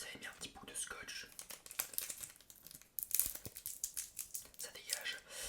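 Crinkly tearing and peeling of a small piece of adhesive tape from the packaging of a supporter scarf, in short bursts up close, alongside soft whispering.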